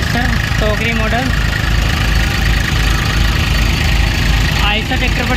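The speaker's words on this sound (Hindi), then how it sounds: "ये मशीन चल रही है गौतम थ्रेसर टोकरी मॉडल," A Gautam basket-model peanut thresher runs off a tractor during a groundnut harvest, a steady, loud mechanical drone and clatter with someone talking over it throughout.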